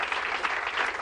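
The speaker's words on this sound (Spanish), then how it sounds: "un fuerte aplauso a Jorge Flores que está también con nosotros" A brief burst of audience applause at a school reunion soccer event, a soft, even rustle of many hands clapping at moderate distance, with no talk.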